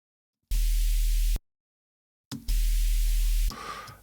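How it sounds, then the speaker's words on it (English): Two bursts of bright, hissy synthesized noise through a high-pass filter around 2 kHz, one short and one longer, with thin low body beneath and a sharp start and stop, loud and close. "a high pass filter for the noise"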